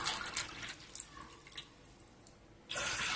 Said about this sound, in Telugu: ఇప్పుడు అదే శర్వలో పాలు పోసుకోవాలండి